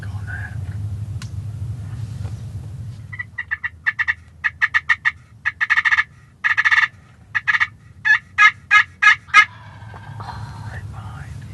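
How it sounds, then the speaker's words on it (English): A wild turkey gobbles repeatedly in the woods of Indiana, loud rattling bursts coming in quick clusters from fairly close, with quiet ambient noise before and after. "the bird that was behind us in the woods gobbling finally made his way in"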